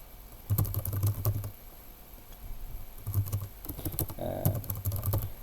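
Keys tapped on a computer keyboard while a game name is entered on an online Civilization board game site, coming in quick clustered bursts with short pauses between them, close and moderately loud.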